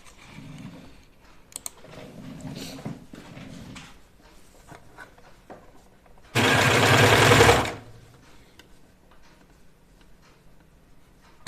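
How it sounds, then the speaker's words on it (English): A serger runs in one loud, steady burst of about a second, stitching sweatshirt pieces together, with quieter clicks and handling noises around it. "I'm gonna serge this together right here."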